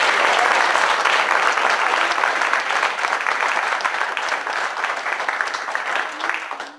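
A room of people applauds a guest at a local gathering, steady sustained clapping for several seconds that gradually tapers toward the end.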